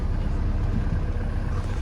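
A John Deere Gator utility vehicle with a gear fault runs its engine in a workshop, giving a steady, close, low rumble without pauses.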